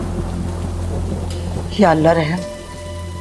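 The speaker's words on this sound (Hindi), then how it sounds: "बाहर तो बहुत तेज बारिश हो रही है। जी, और बिजली भी बहुत कड़क रही है।" Heavy rain pours steadily outside during a storm, a dense constant hiss under a short fearful prayer spoken by a woman.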